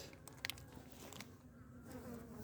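Honeybees feeding on bee cake in a hive, giving a soft, continuous buzzing hum with a few brief sharper sounds, faint and close, with no talking.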